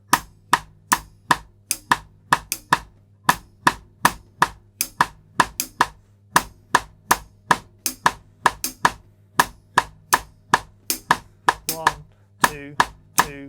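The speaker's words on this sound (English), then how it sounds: "going to show you is a Partido Alto rhythm, which is part of the kind of the vocabulary of Samba" A drum kit plays a Partido Alto samba rhythm, sharp close strikes in a steady syncopated pattern repeating for the whole stretch, with a faint low hum underneath and no talk.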